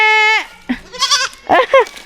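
A goat bleats loudly once up close on a farm in the Philippines, followed by a few shorter bleating calls with brief gaps between them.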